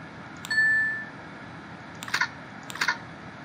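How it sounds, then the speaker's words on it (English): Bell dinging in the video game Progressbar 95, a clear single chime followed by two short bursts of bright metallic clicks, fairly faint against a quiet background. "Well, it's worth ringing that bell"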